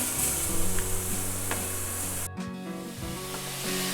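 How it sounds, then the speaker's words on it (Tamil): Grated beetroot fries in ghee with a constant close sizzle. A brief sharp stirring scrape cuts through the middle, and a low background hum runs underneath with no talk. "இது வந்து இதே நெய்யில் நம்ம இதை கொஞ்சம் ஃப்ரை பண்ணிடலாம்"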